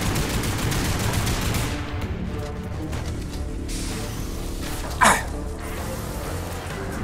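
Gunfire from the video game Lost Planet 3, with bursts of shots over a busy game soundscape and one sharper crack partway through, fairly quiet overall.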